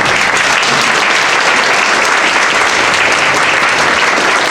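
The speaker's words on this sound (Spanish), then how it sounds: "les pido un aplauso para nuestros comentarios" Audience at a book presentation applauding steadily and loudly throughout, a dense wash of clapping with no talk over it.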